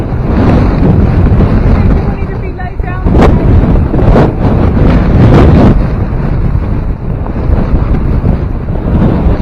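Strong gusting wind at Canal Rocks, a rocky coast with rough surf and spray, roars steadily into the microphone, buffeting loudly throughout with surging gusts.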